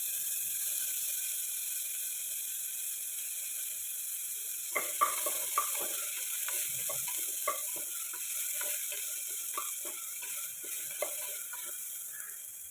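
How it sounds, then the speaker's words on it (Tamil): Onion, ginger and garlic sauté in a hot pan with a steady close sizzle, joined partway through by repeated scraping stir strokes. "இஞ்சி பூண்டு சேர்த்து 2 நிமிஷம் வதக்கியாச்சு"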